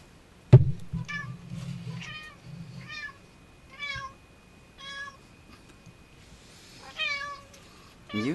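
A cat meows repeatedly, about seven short meows spaced a second or so apart, close and clear, with a brief thump near the start.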